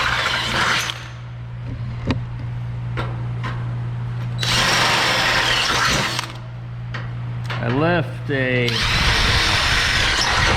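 Power drill boring plug-weld holes in a steel deck panel on a 1967 Chevelle, loud sustained whine in several long bursts with pauses between, plus brief clanks and a short spoken remark.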